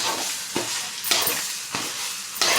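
Lemon rice is being stirred after fresh lemon juice goes in, with a few close, scraping strokes of a spoon through the rice in a pan over a steady hiss.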